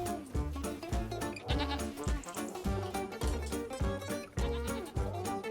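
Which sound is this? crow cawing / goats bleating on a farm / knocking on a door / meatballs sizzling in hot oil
goats bleating on a farm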